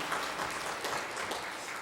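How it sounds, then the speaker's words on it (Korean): A church congregation applauds together during an afternoon worship service, a dense, steady wash of many hands clapping that holds evenly at moderate loudness for the whole stretch, with no voices over it. "하나님께 영광의 박수 드리겠습니다."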